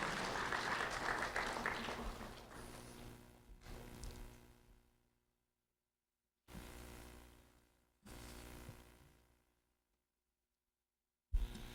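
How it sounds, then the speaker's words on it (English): Applause from an audience at a Lee County Sheriff's Office ceremony honoring a fifth-grade student. It starts as a dense, loud burst, fades over several seconds, then returns as two shorter rounds separated by silence. "a round of applause for Ashton Parker"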